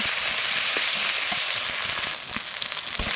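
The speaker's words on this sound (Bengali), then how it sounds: "আদা বাটাটা দিয়ে একটু ভেজে নেব" Garlic and ginger paste fries in a pan with a steady, dense, close sizzle throughout, accompanied by occasional soft stirring knocks.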